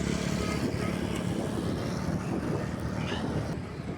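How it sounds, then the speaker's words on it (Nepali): Morning street traffic of cars, motorbikes and taxis at a busy city junction, a dense continuous rumble of engines with passing vehicles, heard from a bicycle on the road. "अगाडि मान्छेहरू, गाडी, बाइक, ट्याक्सीहरू सबै हिँड्न थालेको छ।"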